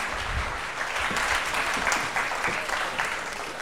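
Sustained audience applause at a university youth debate quarterfinal in Guinea, a thick, steady clatter of many hands that swells slightly in the middle and carries on for several seconds without speech.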